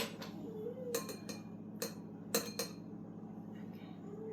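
A spoon clinks against a dish several times, with light, sharp metallic taps spaced irregularly over a quiet indoor background.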